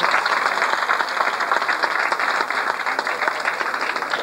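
Audience applause at a 1991 cabaret show in Alençon, dense sustained clapping from a crowd that fills the hall evenly from start to finish.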